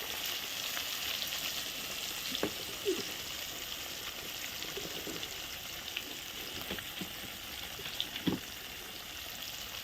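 Steady sizzling hiss of rohu fish frying in hot oil over a wood-fired stove, with a few sharp pops and crackles scattered throughout.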